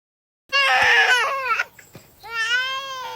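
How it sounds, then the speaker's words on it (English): A colicky baby wails in loud, strained bursts, a long cry, a brief catch of breath, then another rising sob, close and with no other voices. "That's a colic cry."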